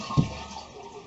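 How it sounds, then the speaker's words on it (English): A household toilet flushing during a DIY removal, the tank being drained: a short gurgling rush of water at the start settling into a steady low wash of draining water. "I'm going to flush it again and kind of hold it"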